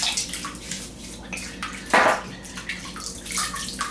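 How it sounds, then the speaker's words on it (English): Water running from a tap to wet the face before a wet shave, a steady splashing flow with a brief louder gush midway, close and alone without talk. "Oh, I suppose I forgot to wet my face."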